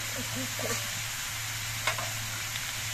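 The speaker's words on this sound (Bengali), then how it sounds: "এবার নুন দিয়ে নেড়ে চেড়ে মিশিয়ে নিতে হবে" Cauliflower stems frying in a pan with salt, turmeric and slit green chillies, a soft steady sizzle with a few stirring scrapes, fairly quiet and close, with no one speaking.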